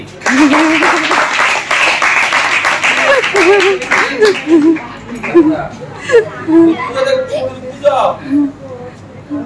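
A group of children clapping together indoors during a lesson, brisk steady hand claps for several seconds that thin out as an adult voice and children's chatter take over.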